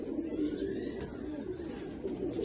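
Pigeons coo steadily at a breeder's loft, among them a big black-winged cock and a pair set for breeding; the soft, low cooing runs on without a break, close by, with no talk over it.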